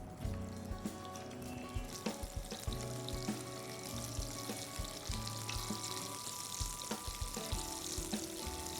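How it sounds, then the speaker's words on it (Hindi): Turmeric-coated potatoes shallow fry in a pan for dum aloo, a continuous soft sizzle with occasional clinks and stirring sounds, faint and close. "इन आलूओं को हम अच्छे से शैलो फ्राई कर लेंगे।"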